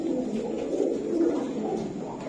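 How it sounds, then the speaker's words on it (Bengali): Giribaz pigeons cooing steadily at close range, a low, soft, continuous murmur of overlapping coos without pauses, held at an even loudness. "দেখছেন দর্শক কবুতর গুলা।"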